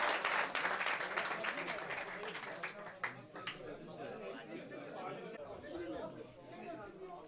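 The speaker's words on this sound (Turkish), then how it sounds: "Bir alkış istiyoruz." A brief round of clapping from a small group starts strong, then thins out into scattered claps as lively chatter and voices take over the room.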